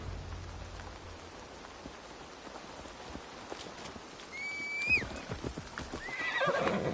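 Horse hooves clip-clop in Assassin's Creed Valhalla as a mount rides through the rainy Gloucestershire forest, quiet rhythmic steps under steady rain, then a nearby whinny and louder hoofbeats toward the end.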